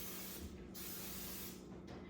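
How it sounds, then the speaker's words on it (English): Two short hissing bursts of olive oil cooking spray onto a pan, one near the start and one near the end, close and steady against a quiet background. "So we're going to be using an olive oil spray today, where we're going to spray our pan here."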